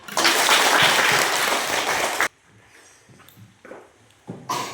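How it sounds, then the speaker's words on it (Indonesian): A class claps hands during a guidance lesson, with a burst of loud group clapping that stops abruptly about halfway through, followed by quiet room sound and a few soft knocks and shuffles. "tepuk tangan dulu"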